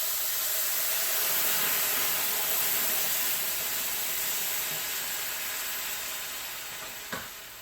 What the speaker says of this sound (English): Now remember, it's going to steam up really fast